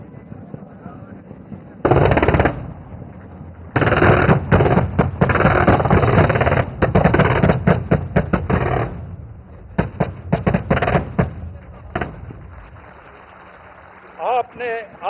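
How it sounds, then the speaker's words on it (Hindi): Air defence weapon system firing during a military exercise at Pokhran, Rajasthan, with loud sustained bursts of rapid fire broken by pauses, then scattered shorter volleys and a few isolated reports near the end. "हमारी ये एयर डिफेंस के वेपन सिस्टम ने दुश्मन के हवाई हमले को अपने सटीक फायर से नाकाम कर दिया"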